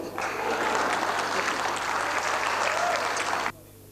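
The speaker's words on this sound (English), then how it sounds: "Why don't you give them a round of applause?" A church audience claps for a choir in Manila, a dense burst of applause that holds steady for about three and a half seconds and then stops abruptly.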